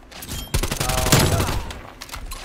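Rapid automatic gunfire in the Call of Duty: Cold War video game hits the player with a loud, dense burst of shots, followed by a few scattered trailing shots, all close and continuous with no clear talking.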